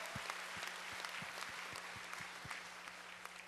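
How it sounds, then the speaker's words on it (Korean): Church congregation applauding during an Easter worship service, a quiet, dense wash of steady clapping at a distance that carries on evenly throughout. "하나님 앞에 다시 한번 큰 박수로 영광 올립니다"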